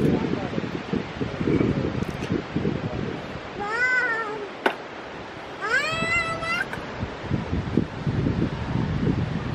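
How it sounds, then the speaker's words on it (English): Strong wind at Eklutna Lake roars and buffets the microphone in gusts, easing in the middle while a cat-like meowing voice sounds twice, then surging back loud at the end. "it is super windy out here."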